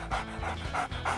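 A dog pants close up, with about four quick, rhythmic breaths in and out in a short burst. No other sounds intrude.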